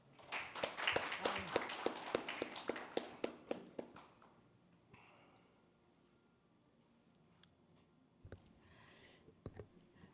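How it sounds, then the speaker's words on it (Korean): An audience at a National Assembly forum on cataract insurance claims applauds with a dense burst of clapping that lasts about four seconds, then fades into a quiet room with a few scattered thumps and faint movement. "박수 부탁드리겠습니다"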